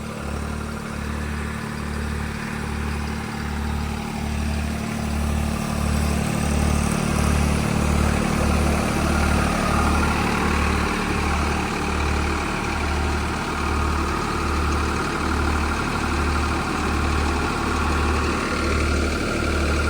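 Tractor engine running steadily in low first gear during a field test with a super seeder or rotavator, a continuous loud mid-pitched drone with a regular pulsing throb, close and unbroken, with no one talking.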